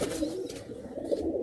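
Malwai and Madrasi pigeons coo softly in a loft, low throaty calls repeating over a brief stretch, close by with faint background noise.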